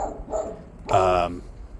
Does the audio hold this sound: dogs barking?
yes